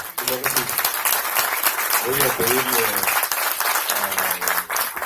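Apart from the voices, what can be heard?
audience applause for Enrique González Ruiz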